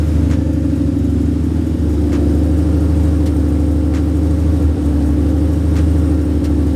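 A cammed, nitrous Ford Mustang V8 exhaust with SLP mufflers rumbles loudly and steadily at idle with a throaty burble, a slight revving swell partway through.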